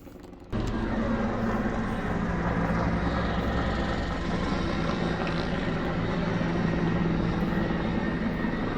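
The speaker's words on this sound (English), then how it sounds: "we've had helicopters coming in and out" A helicopter's rotor thumps loudly and steadily nearby as it comes in to land on an oval, starting abruptly and holding a constant close drone for the rest of the clip.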